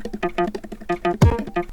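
Kick drums enter a beat under a looping stringy guitar-like sample, two deep punchy thumps landing near the end beneath the rapid plucked pattern, loud and with nobody talking.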